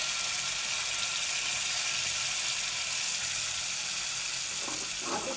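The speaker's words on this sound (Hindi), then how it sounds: "2 से 3 मिनट फ्राई करेंगे" Red chili chutney with tadka frying in a pan: a steady, close, bright sizzle runs throughout with no talking, and a brief stir or clatter comes near the end.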